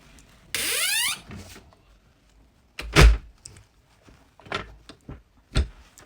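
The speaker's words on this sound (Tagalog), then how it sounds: "ayan naman yung pintuan at ang pinakaloob niyan ay bakal din" A heavy steel bomb shelter door is dragged with a long grinding screech, followed by several dull thuds and clanks as it moves and settles.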